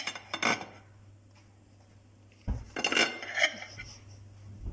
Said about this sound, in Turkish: şimdi bir dilim keseceğim vereceğim